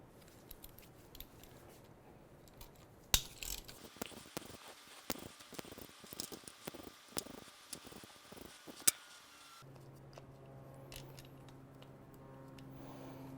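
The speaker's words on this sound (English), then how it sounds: "I'm just going to go ahead and remove all the various screws and nuts that hold this in" Ratchet working loose the screws and nuts on a BMW R90/6 motorcycle timing cover: a close series of sharp clicks and brief rattling ticks, bunched in short bursts, with a steady low hum running beneath near the end.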